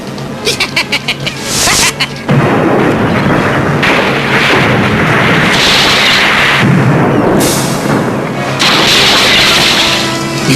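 Cannon fire from ships in a pirate adventure film: a rapid run of sharp blasts at the start, then a long, loud, continuous roar of heavy booms and rumbling battle noise filling the rest of the clip.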